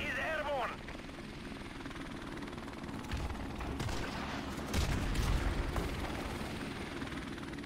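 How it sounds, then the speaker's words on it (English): A killstreak helicopter in the video game Modern Warfare Remastered, a continuous rotor drone under bursts of gunfire and mechanical clatter, with a brief warbling tone at the start and talk over the noise. "Chopper didn't do nothing."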